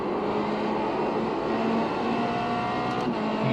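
A race car in the iRacing sim at Phillip Island holds a steady, droning engine note at moderate loudness throughout, with no talking.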